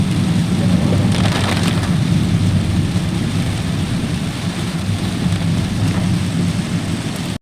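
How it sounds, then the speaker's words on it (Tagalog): Heavy tropical downpour drums steadily on a vehicle and surroundings, a dense, loud, continuous roar of rain with low rumbling that may be distant thunder, no voices. "Ulan po ng ulan, grabe."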